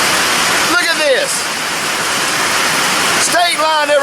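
Heavy rain pours down steadily on an outdoor cooking spot on a very wet day, a loud, dense hiss that fills the whole stretch, with someone talking over it twice.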